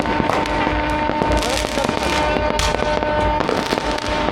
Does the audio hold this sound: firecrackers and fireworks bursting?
yes